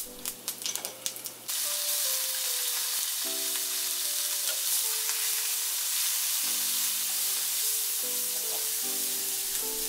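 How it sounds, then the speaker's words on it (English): Onion seeds and ginger paste frying in tamarind oil for a fish curry, a steady loud sizzle with an opening burst of crackle, alongside a faint tonal hum that steps up and down throughout; no one speaks. "now we need to add onion seeds and ginger paste to tamarind oil."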